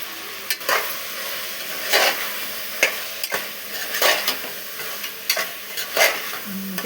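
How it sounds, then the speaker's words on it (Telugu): Brinjal curry with coriander powder is stirred in a frying pan: close, repeated scraping strokes over a steady oily sizzle, with no talking. "వేసుకొని ఒకసారి కలుపుకున్నాను."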